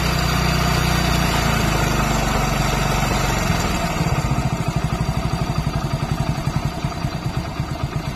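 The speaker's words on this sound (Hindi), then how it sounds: "तो चलिए अब बाइक की रेस हम कम करते हैं।" A Hero Splendor motorcycle engine runs steadily, then settles into a lower, slower idle with a pulsing, chugging rhythm, close and loud throughout.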